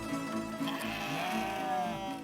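Sheep bleat on a farm, several wavering calls close by over a low background hum, with no speech.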